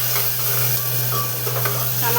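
Yellow khichdi cooks in a pot with onion, potato and spices, giving a steady sizzling, steaming hiss, close and fairly loud throughout a short stretch.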